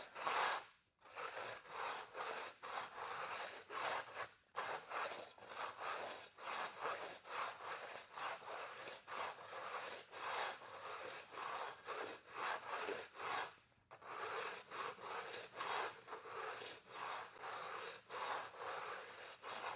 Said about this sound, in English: We're going to go ahead and run the scraper over it.